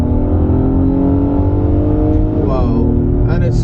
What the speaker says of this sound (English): No pumped in audio, just natural engine noise, intake noise